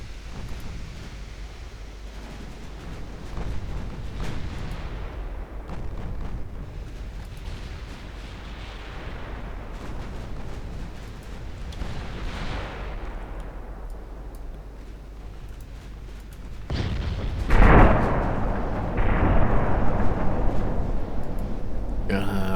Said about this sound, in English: I want my battleships all firing AP